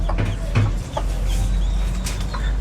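Chickens clucking around a small village in Nicaragua in the morning, with scattered short clucks and calls at close range over a steady low outdoor background.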